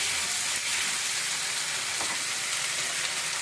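Cucumber pieces and ginger-garlic paste frying in a pan for a cucumber-tomato curry, a steady dense sizzle held close and loud throughout, with no talk over it.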